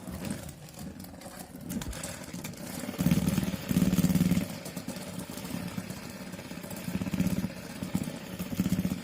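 A Beyblade spinning top fitted with a Never-Ending bearing driver, launched by hand, whirs with a steady low hum that swells and eases as it spins, with no talking over it.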